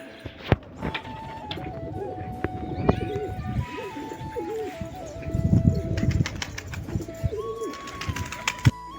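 Pigeons flap their wings and fly off after feeding, with bursts of flapping and cooing heard near and far. Voices talk underneath, and sharp knocks and a thin whistling tone come and go.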